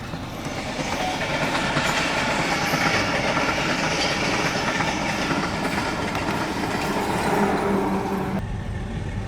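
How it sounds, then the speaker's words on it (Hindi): Khyber Mail passenger train running alongside a moving car, heard from inside the car with a window open: a loud, continuous rumble of wheels and clattering railcars that holds steady throughout. "हम कार में सफ़र कर रहे हैं और खैबर मेल हमारे बराबर में"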